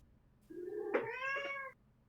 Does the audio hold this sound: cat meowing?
yes